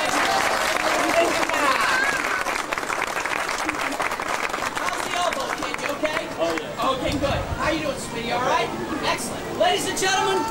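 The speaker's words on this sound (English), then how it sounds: "a round of applause for the players" A crowd at a Disney World performance applauds the players, loud, dense clapping and cheering mixed with chatter and babble that slowly thins and turns into scattered claps and voices.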